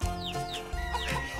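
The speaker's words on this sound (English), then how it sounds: "here comes some of my chickens" Chickens cluck in quick bursts over a full background, with a few rising squawks among them, close and fairly loud.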